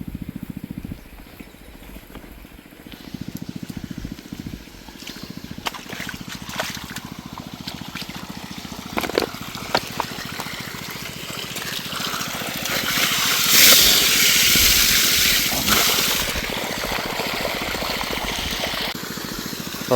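A water pump running in the morning to water young bamboo shoots just starting to sprout, a steady engine drone with trickling, splashing water that swells louder partway through.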